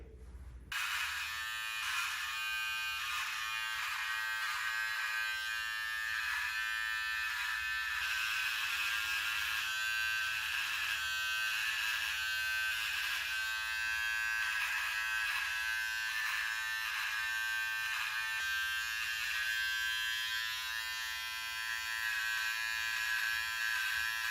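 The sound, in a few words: Wahl electric trimmer trimming goatee beard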